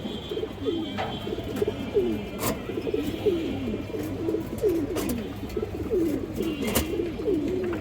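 Pigeons, including a large silver female, coo repeatedly in a steady rhythmic series of soft rolling calls, with faint clicks and rustles in the background.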